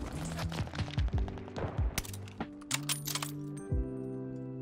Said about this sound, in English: It feels so weird sniping with the Mosin, but it's silenced